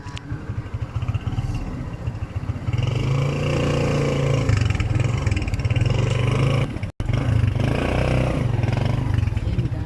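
Many motorcycles and tricycles at a parking area, with a steady, fairly loud engine drone and rumble throughout and a brief dropout near the end.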